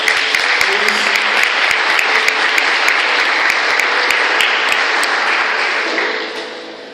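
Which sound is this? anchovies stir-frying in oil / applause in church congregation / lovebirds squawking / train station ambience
applause in church congregation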